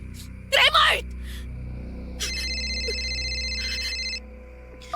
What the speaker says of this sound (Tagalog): Narinig kong nag-ring yung cellphone mo dito sa sala